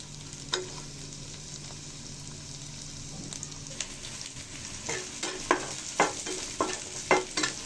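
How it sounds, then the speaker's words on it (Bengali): Chopped onion and garlic fry toward golden brown in a pan, a low sizzle underneath spatula clicks and scrapes that come closer and more frequent in the second half, with no one speaking. "তো পেঁয়াজ রসুনটা গোল্ডেন ব্রাউন কালার করে ভেজে নিব।"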